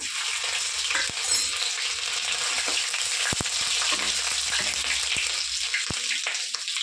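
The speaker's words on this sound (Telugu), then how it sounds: "ఒక 3 పచ్చిమిరపకాయలు నేతిలో బాగా ఫ్రై అవుతాయండి" Green and dried chillies frying in hot ghee with finely chopped ginger, a steady close sizzle and crackle with a few sharp pops, continuous throughout with no voices.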